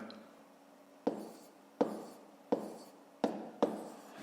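Numbers being written by hand during a math exercise, five sharp pen taps at a steady pace, each followed by a short scratching stroke, close and quiet.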